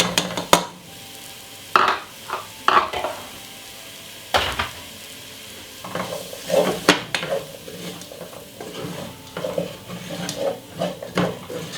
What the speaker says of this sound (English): Make it at a medium size heat with the butter melting, with the garlic and the onion cooking in it.